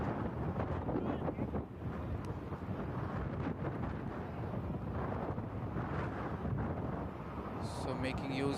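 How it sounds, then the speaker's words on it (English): Wind blows steadily across an open cricket ground during a Masters cricket match in the USA, a continuous broadband rush and buffeting that fills the whole stretch, with commentary-like voices faintly present underneath. "The wind is flowing across the ground"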